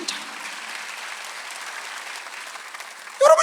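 A church congregation at a Sunday worship service claps in a steady, even wash of applause, and a voice breaks in loudly near the end.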